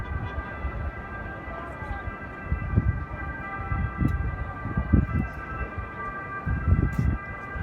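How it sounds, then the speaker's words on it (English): A distant siren wails steadily over low city rumble and traffic noise in a Tuscan city. Someone speaks intermittently in the foreground. "And like any city, you can hear sirens."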